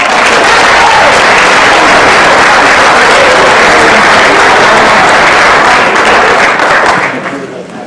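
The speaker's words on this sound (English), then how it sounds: "So let's give them a round of applause." Audience at a winter sports awards night applauds the honored athletes, a dense, loud wash of clapping that stays steady for about seven seconds before thinning out at the end.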